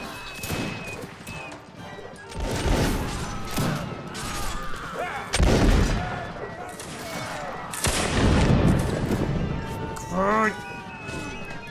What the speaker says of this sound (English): There's definitely a cannon somewhere.